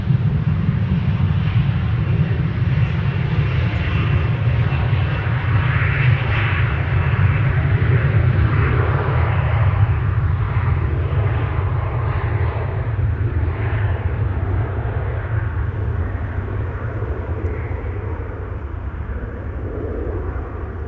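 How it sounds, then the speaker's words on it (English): Transavia Airbus A321neo under tow at Amsterdam Schiphol, heard as a loud, low, continuous rumble that dominates the scene and eases off slightly toward the end. "One of Transavia's A321 Neos is being towed here in the foreground."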